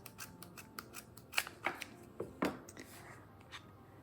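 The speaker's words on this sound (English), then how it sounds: "I didn't think this was going to be so hard to cut." Scissors snip through stiff cardboard in short, separate crunching cuts, about a dozen close, crisp strokes spaced unevenly with effortful pauses between them.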